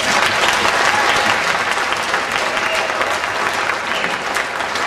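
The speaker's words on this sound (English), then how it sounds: "Let's have a round of applause for our board of directors." A banquet audience at a 2009 induction ceremony breaks into loud, sustained applause for the board of directors, a dense wash of clapping that holds steady for about five seconds.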